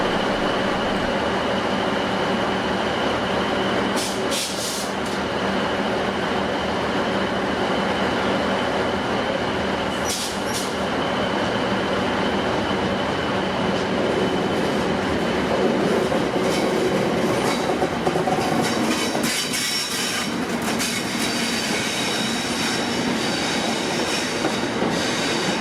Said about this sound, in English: A rake of Class 769s capable of either electric or diesel operation